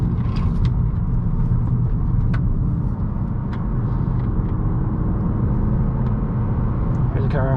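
A car winds through tight hairpins on the twisty mountain road of the Tail of the Dragon between Tennessee and North Carolina, its engine rumbling steadily and loudly up close, with an oncoming car briefly passing.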